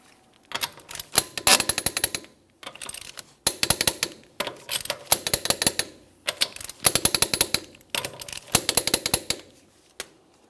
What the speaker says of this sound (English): I'm going to be torquing each one of my lug nuts in a crisscross manner to that 80 foot-pounds